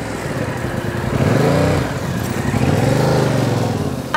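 A motorcycle engine idling and ticking over at low throttle during slow-speed riding practice, with the pitch rising and falling gently as gas is fed in; steady, close and continuous, no talk.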